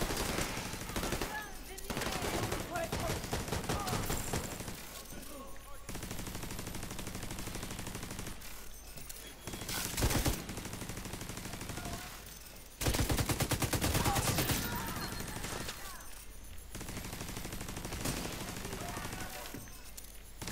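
Automatic turret fire in the shooter The Division 2, Tidal Basin stronghold, sustained loud bursts of rapid shots with short pauses between volleys, heard up close.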